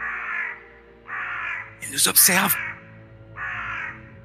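Crows caw in a few loud, harsh bursts in the middle, near and clear, while a voice speaks softly before and after against a quiet background.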